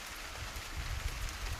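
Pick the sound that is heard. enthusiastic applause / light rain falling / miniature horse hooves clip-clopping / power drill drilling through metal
light rain falling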